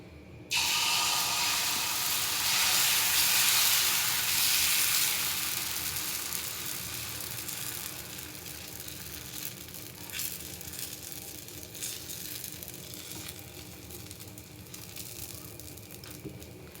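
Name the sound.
green gram dosa batter sizzling on a hot griddle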